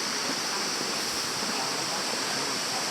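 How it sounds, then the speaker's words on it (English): A rainforest creek flowing steadily, a dense, continuous rush of water that stays close and fairly loud without a break, with no voices over it. "Oh, I love a creek."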